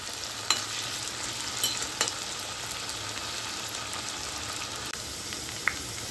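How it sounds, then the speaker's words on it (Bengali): Potatoes frying in a pan for a Bengali banana-flower and prawn dish, with a steady low sizzle and occasional scraping clicks from stirring, close and moderately quiet with no voices. "আলুটা আমার ভাজা ভাজা হয়ে গেছে"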